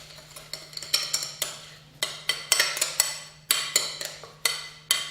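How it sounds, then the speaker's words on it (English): Steak tartare being mixed with mustard, gherkin and Tabasco, a quick run of sharp metallic clinks and scrapes against a bowl, close and crisp, with a steady low hum behind. "So let's just mix all that up again."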